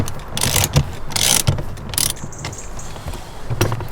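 A ratchet fitted with a 24mm socket loosens the steering wheel bolt on a Ford Transit Connect, giving close, loud bursts of rapid clicking pawl strokes with brief gaps between pulls.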